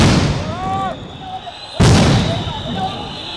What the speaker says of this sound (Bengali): চাকরিচ্যুত বিডিআর সদস্যদের ছত্রভঙ্গ করতে জলকামান ও সাউন্ড গ্রেনেড ছোড়ে পুলিশ